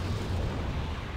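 A deep, rumbling boom of artillery fire in the video game Wargame: Red Dragon rolls out, low and muffled, with a dull continuous roar behind it.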